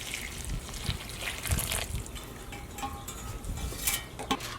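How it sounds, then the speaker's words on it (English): Water poured from a can or jug onto the soil of a potted ponytail palm, a soft splashing trickle with small drips, steady and close at low level, with no talking. "Okay, let's give the ponytail palm some water."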